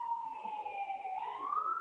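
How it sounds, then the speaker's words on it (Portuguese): An ambulance siren carries up to a 13th-floor apartment as one steady, continuous wail that dips slightly in pitch and then rises again, heard alone without talk. "A sirene da ambulância tá alta."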